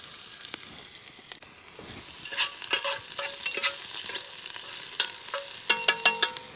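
Onions fry in a pan at a riverside wilderness camp, a steady crackling sizzle broken by sharp clinks and scrapes of stirring, close and clear with no talking.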